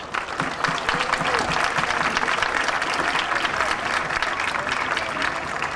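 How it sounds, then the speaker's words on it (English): A crowd at a high school graduation applauds steadily for several seconds, a dense, loud wash of clapping with no pauses. "Let's give them a nice round of applause."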